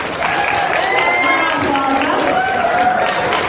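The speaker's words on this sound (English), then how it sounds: "We want a big round of applause for sponsors because they help make everything here happen" An audience at the Animaritime 2017 convention at the Fredericton Convention Center gives sponsors a round of applause, steady clapping mixed with scattered cheers and raised voices across a crowded hall.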